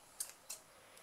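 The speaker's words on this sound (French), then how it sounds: "à l'aide de mes ciseaux, je vais faire juste un petit pic" Two quick, crisp snips of scissors cutting fabric close by while sewing a jewellery case, then a faint click, in an otherwise quiet room.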